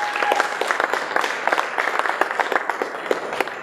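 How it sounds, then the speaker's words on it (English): Audience applause at a Shark Tank–style event in San Francisco, a steady round of clapping from a crowd with dense overlapping claps throughout, moderately loud and without speech. "what a round of applause"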